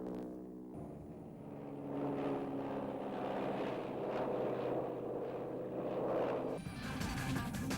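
A prop-driven Cessna, a slow forward air control plane of the Vietnam air war, drones with a steady buzzing engine note. The sound is faint and distant, and a change in tone near the end marks a shift.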